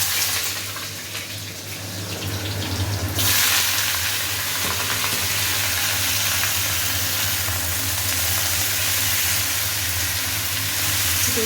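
Nigella seeds temper in hot oil, giving a loud, steady sizzle and crackle that grows sharply brighter after a few seconds and then holds continuous to the end, with no voices.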